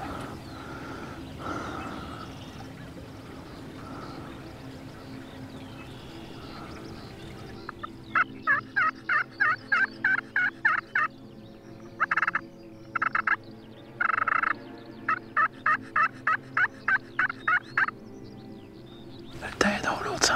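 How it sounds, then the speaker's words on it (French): Wild turkeys gobble during a hunt, with several rapid rattling bursts in a stuttering series that stop and start, fairly close, after soft whispered speech at the start. "Le dindon, l'autre s'en vient."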